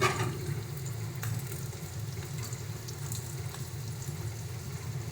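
Potatoes frying in a pan with turmeric, dry chili powder, cumin, coriander and salt give a steady, close sizzle and crackle, with a few faint clinks as they are stirred.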